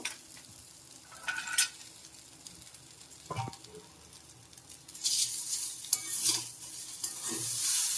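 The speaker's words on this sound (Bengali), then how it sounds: "দিয়ে দিচ্ছি এর মধ্যে ভেজে নেওয়া বাদাম একসাথে সব কিছু মিশিয়ে নেব" Veg chowmein tossed with fried peanuts is stirred in a pan: quiet, intermittent scrapes and rustles, then a busier burst of stirring and soft sizzle toward the end, with no talking.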